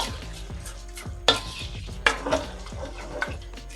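Rice being stirred into a frying pot for fried rice, giving soft scraping and shuffling with a few sharp clinks of the utensil against the pot, close up with no talk.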